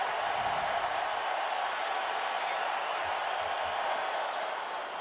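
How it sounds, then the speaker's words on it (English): Phillies home crowd at a baseball stadium during a playoff game, a dense, steady roar of cheering and noise filling the whole stretch at a constant level. "I think the crowd's back in it."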